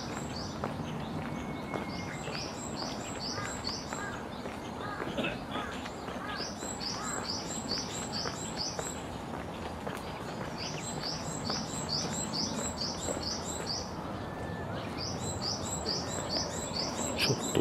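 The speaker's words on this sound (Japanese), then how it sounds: "鳥の声がすごい聞こえます。" Birds chirping in repeated bursts of high, quick tweets over a steady outdoor background hum, with faint rustling and footsteps, recorded on a Canon PowerShot V10 camera.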